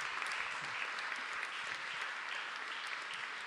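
Steady, dense applause from an educated audience at a book presentation at the Circolo dei Lettori in Turin, a continuous even wash of many hands clapping at moderate distance, with no talk over it.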